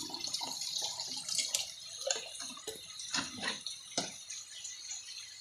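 Tap water pours into a self-watering plant pot, an uneven run of splashing, gurgling and dripping, moderately close, with small spurts and pauses.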